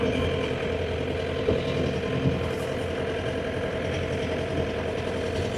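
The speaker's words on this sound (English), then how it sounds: "start driving in at just idle, and then idle it up as we're driving" John Deere engine running at a steady idle throughout, a continuous close mechanical drone with no clear rev-up and no voices.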